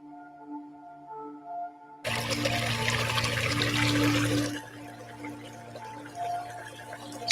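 Water trickles and splashes in a small creek beside a park, quiet at first, then a louder burst of rushing flow for a couple of seconds before settling back to a soft, steady trickle.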